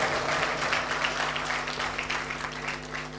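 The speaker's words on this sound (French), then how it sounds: "Applaudissez pour ce jeune homme." An audience at a seminar on making money online applauds a young man, steady moderate clapping across the whole stretch over a low electrical hum, with no talking.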